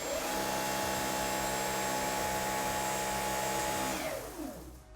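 A Dyson cordless vacuum whirs steadily in eco mode with a whining motor tone, close and loud, then spins down near the end.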